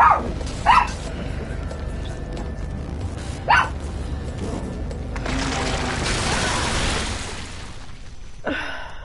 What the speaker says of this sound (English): Yeah, dog, you gotta shut up.